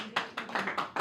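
A spiritual talk audience claps in a steady rhythm, with about five distinct, fairly close clap bursts evenly spaced across a brief moment.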